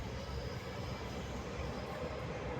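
A train rumbling past at a distance, a steady broadband roar that stays even and unbroken throughout, with no talking.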